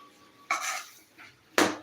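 Chicken spring roll filling stirred in a pan, with a few short scraping and clattering bursts of a utensil against the pan separated by quieter gaps.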